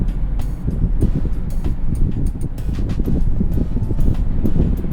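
A car drives along the route of a former wartime airfield runway in Echizen, Fukui, giving a steady, loud rumble of road and wind noise throughout with no talking.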